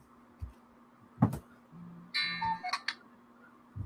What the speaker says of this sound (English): And cuckoo clock sound again.